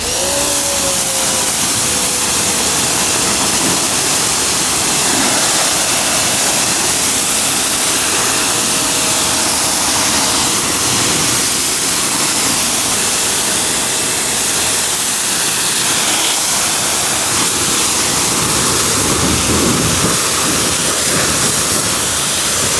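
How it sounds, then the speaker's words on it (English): Water hoses soapy suds off a car's paintwork in a continuous loud, broad spray hiss lasting the whole stretch, steady with slight shifts as the stream moves over the body, no talk. "now we can go and get this thing rinsed off and dried up with the Tough Towel"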